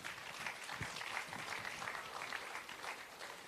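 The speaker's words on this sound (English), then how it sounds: "Won't you give them a round of applause, ladies and gentlemen?" Applause from the audience at the grand opening of a beach club in St Thomas, honoring the staff, a fairly quiet, steady patter of many hands clapping at a distance throughout.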